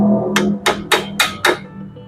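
A flathead screwdriver works the front wheel bearing cover off an Opel Blazer, five sharp, evenly spaced metallic taps ringing close and loud over a low background hum.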